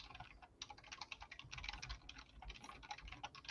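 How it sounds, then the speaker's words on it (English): A computer keyboard clatters under rapid, furious typing, a quick continuous run of close, light key taps with no voices. "I hear furious typing."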